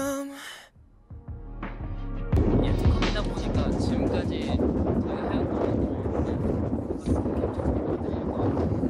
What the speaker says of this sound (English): it's so windy you can't even hear him